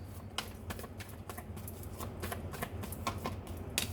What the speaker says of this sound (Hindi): ये वाला कार्ड वेट अ सेकेंड, दोबारा से शफल करते हैं।